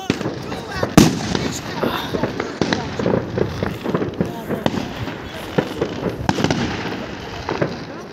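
New Year's Eve fireworks crack and pop repeatedly, some of them far off, in a dense irregular barrage while people talk nearby.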